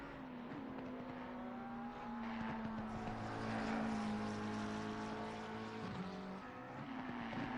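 A McLaren race car in a racing video game sim at Circuit of the Americas, its engine droning loudly as it crosses the line, pitch sliding and shifting over a continuous roar with no talk.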